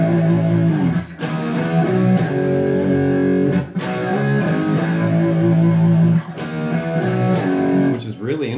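Distorted electric guitar power chords from a riff, spread out by a delay effect that fills the space between strikes, sustained and loud with a few sharp re-attacks and brief breaks.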